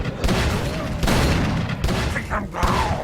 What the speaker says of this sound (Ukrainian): Ну те, як вони стріляють на цьому рівні складності, це щось неймовірне, так?